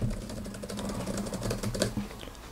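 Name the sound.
typing on ESR iPad keyboard case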